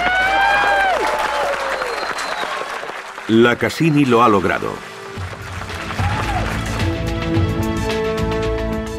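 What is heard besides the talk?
mission control staff cheering and applauding Cassini crossing Saturn's rings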